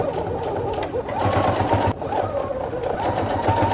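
A sewing machine stitches a strap on a string backpack in a trapezoid seam, a loud, close, continuous motor whir with a rhythmic needle chatter that dips briefly near the middle before carrying on, with no talking.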